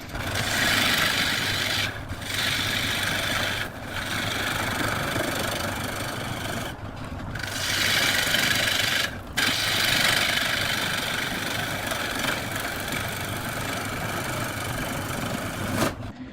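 Wood lathe hollowing a bowl of ash with bark left on, the tailstock engaged: a steady broadband roar of spinning wood and cutting, loud and continuous, with several brief pauses where the gouge lifts off.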